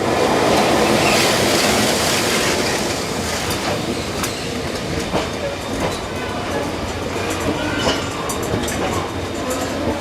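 A Mugunghwa passenger train on the Gyeongjeon line pulls slowly into a station platform, its steady rumbling rail noise loud at first and then easing off, with faint clicks and squeals of wheels on track throughout and no clear talk.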